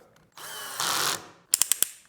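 A THE BLACK TOOLS TB12A cordless drill whirs up and drives a screw, motor pitch rising under load, then the clutch slips in four quick rattling clicks, close and loud.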